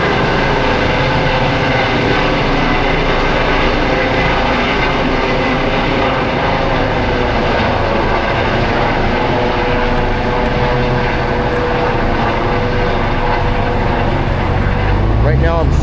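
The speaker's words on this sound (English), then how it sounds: "let you enjoy the sounds of a helicopter landing on a roof" A helicopter sets down on a city rooftop in Philadelphia, a loud, steady broadband roar of rotor and engine that holds for the whole stretch and swells slightly at the end, with no talk over it.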